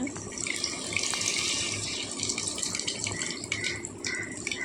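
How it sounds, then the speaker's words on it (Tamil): Tamarind water poured into a pot of cooking vegetables while making sambar at home, a steady splashing gush with light rattling for several seconds, close and alone. "கொஞ்சம் புளி தண்ணி கரைச்சி விடுங்க"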